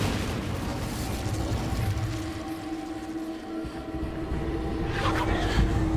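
Incendio fire spell cast in Hogwarts Legacy, a sustained roaring, rumbling whoosh of flame that stays loud throughout, swelling slightly near the end.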